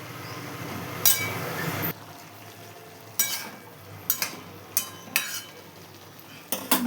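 Cabbage curry is stirred in a pot with a utensil, giving a few sharp scraping clinks scattered over about seven seconds against a faint cooking hiss, with no talking.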